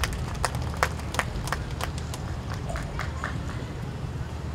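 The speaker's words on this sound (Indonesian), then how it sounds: "Tepuk tangan untuk beliau." Sparse, scattered hand claps from an audience welcoming a guest at an indoor Bank Indonesia event in Papua Barat, a few sharp claps over a steady room murmur.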